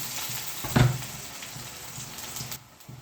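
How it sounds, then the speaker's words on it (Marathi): Onion dropped into hot oil with spluttered mustard seeds gives a sudden loud sizzle burst that settles into steady frying crackle, close and brief. "आता मोहरी तडत झाली हे करून टाकला कांदा"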